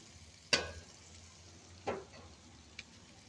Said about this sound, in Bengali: আমার পেঁয়াজগুলো আমি কষাইতেছি